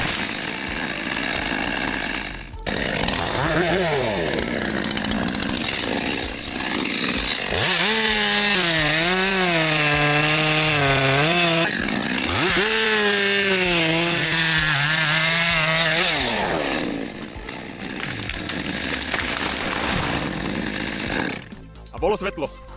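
A handheld chainsaw cuts through wood, its engine revving loud and close in long rising and falling surges, with voices in the background.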